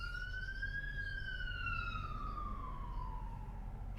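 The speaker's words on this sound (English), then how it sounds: "That sounded like an ambulance going by." An ambulance siren passes by, a single rising then slowly falling wail with clear harmonics, fairly distant and faint over a low background hum, with no talking.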